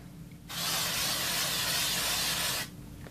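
A steady aerosol spray hiss from a video game sound effect lasts about two seconds, loud and close, starting and stopping abruptly over faint background hum.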